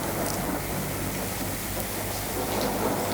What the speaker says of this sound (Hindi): संभवतः फिर से वर्षा होगी।